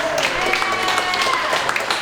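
An improv show audience applauds a volunteer called up from the crowd, a sustained wash of clapping with a voice talking over it.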